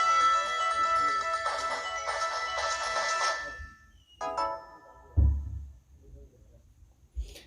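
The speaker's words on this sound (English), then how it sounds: "And you get a little sound notification." A Nintendo Switch console gives a short chiming notification jingle with bright layered tones. A few soft clicks and thumps follow as it is handled, and no voices are heard.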